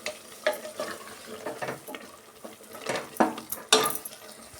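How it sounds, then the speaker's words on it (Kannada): Masala fries in oil for a tomato bath with beans, giving a close sizzle under repeated scraping and clanking strokes of a spoon stirring against the pan, with no voices. "ಆಯಿಲಲ್ಲಿ ಚೆನ್ನಾಗಿ ಮಸಾಲೆನ ಫ್ರೈ ಮಾಡ್ಕೊಬೇಕು"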